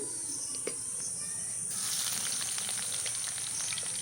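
Oil heating in a wok on a wood-fired clay stove, a soft continuous sizzle that swells into a denser crackling hiss partway through, with faint background noise and no voices.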